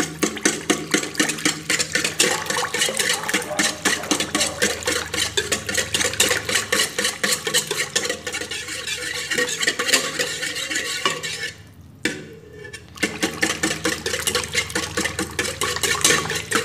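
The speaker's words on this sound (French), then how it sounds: "Donc je continue à mélanger avec un fouet seulement." A wire whisk beats a brioche batter with milk powder in a bowl, giving a steady, fast scraping and clinking rhythm that runs close and continuous, with a brief pause near the end before resuming.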